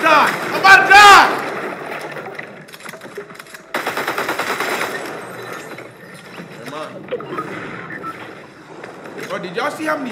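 Rapid automatic gunfire in a Fortnite battle, bursts of quick shots up close alongside other game effects, with an excited player's voice heard over the action.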